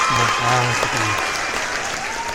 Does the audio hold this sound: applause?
yes